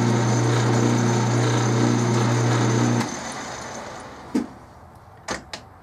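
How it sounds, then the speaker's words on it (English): A metal lathe turns steel for an overall length gauge, giving a steady loud machine hum with tonal whine for about three seconds before it stops, followed by quieter workshop noise and a few sharp knocks. "As soon as I have the lathe going in the right direction."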